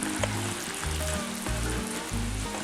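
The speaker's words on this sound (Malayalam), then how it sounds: "ജസ്റ്റ് 1 മിനിറ്റ് ഇതുപോലെ ഇങ്ങനെ ഒന്ന് തിളപ്പിച്ചാൽ മതി കേട്ടോ." Indo-Chinese mixed vegetable chilli sauce bubbling in a pan makes a steady, close, loud simmering hiss through the whole stretch, with a low hum rising and falling under it and no talk.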